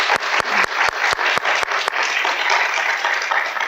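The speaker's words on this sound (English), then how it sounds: "So let's give them another round of applause." Sustained audience applause fills an awards ceremony hall, dense steady clapping from a crowd with a few sharp louder claps near the start, continuing evenly throughout without talk.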